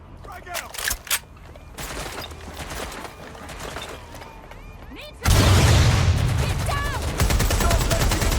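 In the video game Watch Dogs: Legion, scattered gunfire crackles before a frag grenade goes off in a heavy blast, followed by dense, continuous shooting with a voice shouting briefly among the shots.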